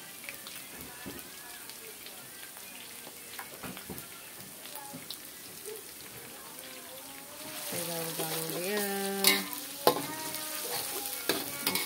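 Anchovies frying in a pan, a continuous crackling sizzle with scattered popping and stirring, close by; partway through a voice talks over it while the frying grows louder.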